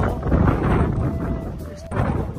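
Wind at sea while a ship moves along off the coast of Chiba, Japan, a loud buffeting roar with gusty low-end swells and a brief drop before it surges back.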